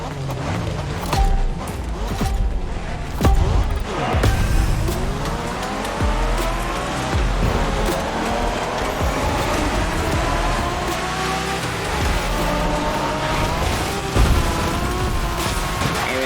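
Racing cars from The Crew Motorfest's Made in Japan playlist, including a Supra, rev and roar continuously with rising and falling engine tones, tire squeals and skids in a loud, dense mix of game audio.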